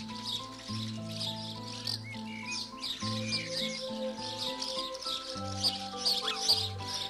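Busy chirping and cheeping from house sparrows fills the background, repeated and overlapping, beneath soft sustained low tones of background music.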